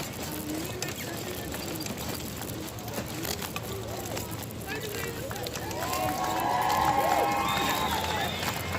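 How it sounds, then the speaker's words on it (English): A street crowd at a Black Lives Matter protest march cheers marchers, rising to louder whoops and shouts toward the end over a steady background of outdoor crowd noise and nearby talking. "crowds cheering the stragglers like me."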